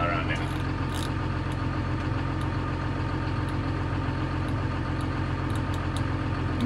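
A John Deere 7430 tractor engine idles and creeps along at very low speed, a steady low rumble with an even, continuous drone that stays constant throughout, with faint talk over it.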